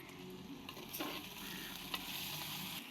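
Onions softening in a hot pan give off a dense, even sizzle, broken by a couple of quick utensil taps as they are stirred; nobody speaks.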